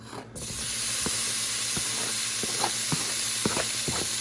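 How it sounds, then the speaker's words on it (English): Cut-up bacon frying in a pan starts with a sudden loud hiss as it hits the heat, then settles into a dense, steady sizzle with small pops and crackles throughout. "we're just gonna go ahead, cook this bacon, try to get it cooked down, try to get it crispy"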